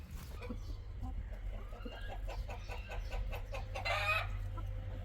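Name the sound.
chickens clucking in a backyard flock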